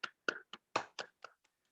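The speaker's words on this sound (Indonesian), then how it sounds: "sama-sama kita berikan aplaus" Scattered hand claps from a small presentation audience, about seven distinct claps in an uneven rhythm, loud at first and trailing off to faint taps by the end.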